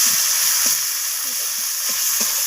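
Chopped tomato and onion sizzle in hot oil left from frying fish, a steady close hiss with soft scrapes and taps from stirring scattered through it.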